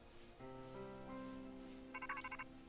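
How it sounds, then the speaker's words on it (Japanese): A phone rings in Pokémon Scarlet on the Nintendo Switch: faint sustained electronic tones build up, then a quick warbling ring burst, soft and alone with no talk. "お、電話。"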